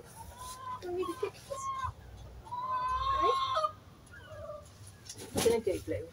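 Backyard chickens cluck in short broken phrases near the microphone, with a rooster-like call and a dog's presence nearby, while a person talks over parts of the sound.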